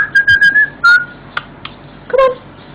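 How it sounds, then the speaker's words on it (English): A pet parrot gives a series of clear whistled notes, short chirping tones and a few longer pure whistles, close and fairly loud in a quiet room. "Are you going to whistle now?"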